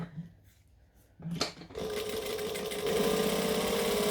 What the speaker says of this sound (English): I'm just stitching right on the edge to hold it together